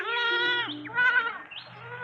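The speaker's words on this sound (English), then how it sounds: "What is it? A goat." Goat bleating close and loud, a drawn-out wavering cry followed by two shorter bleats, in a 1979 radio drama.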